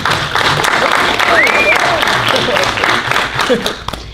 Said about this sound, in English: All right, let's clap for Skylar.